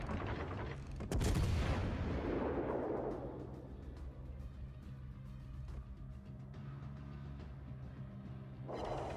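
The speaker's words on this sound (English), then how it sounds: "Shots out on that Bayern." Naval gunfire at the Bayern in World of Warships Legends: one heavy boom lands early, then a long rumbling decay with low battle noise, and a second blast arrives near the end.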